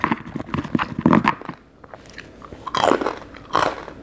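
Loud, close crunchy bites and chewing of Thai papaya salad with fermented fish, in irregular bursts with a short quieter pause in the middle, no talking.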